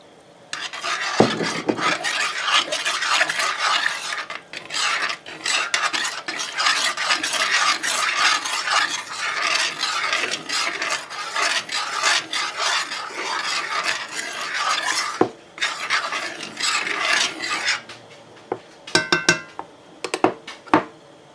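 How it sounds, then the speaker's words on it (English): A spoon scraping out an iron skillet, with long rough rasping strokes that run almost nonstop for about fifteen seconds, then a short pause, more scraping and a few light metallic clinks, loud and close with no voices. "you want to scrape it out pretty well"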